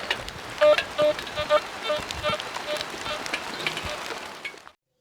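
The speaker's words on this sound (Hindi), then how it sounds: "तेज़ बारिश की वजह से हमें ये वीडियो रोकनी पड़ गई है।" Heavy rain pours steadily outdoors in Pakistan, a dense continuous hiss with scattered louder drops and patters, cutting off abruptly near the end.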